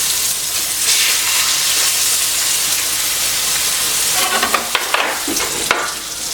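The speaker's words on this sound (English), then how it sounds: "Okay, so we're going to put our pork chops in." Pork chops sear loudly in a hot pan with leftover sauce and butter, a steady close sizzle and hiss throughout, with a few brief clinks and shifts near the end.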